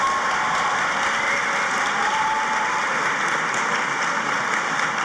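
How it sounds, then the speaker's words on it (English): Steady, full applause fills a high school graduation ceremony as the crowd claps for the chamber choir, a continuous even roar of hands with no talking over it. "Please give our chamber choir a round of applause under the direction of Matt Haltom"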